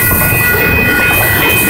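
A freight train rolls past a street crossing on Center St. in Arlington, Texas, a loud, close, continuous rumble of rail cars with a steady metallic ring and no talk.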